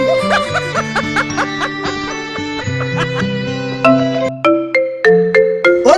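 A mobile phone plays a loud melodic ringtone, a steady run of bright synthesized notes repeating alone for several seconds.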